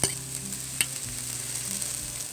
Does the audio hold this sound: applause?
no